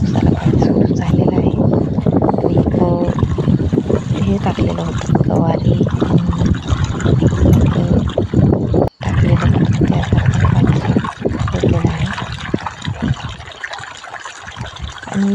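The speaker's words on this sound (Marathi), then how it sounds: "मी मगाशी पाईप जोडलेलं होतं ते पाणी हे आलेलं आहे" Continuous rushing and splashing of water pouring from a pipe into a furrow in a farm field, fairly close and loud, with a person speaking intermittently over it.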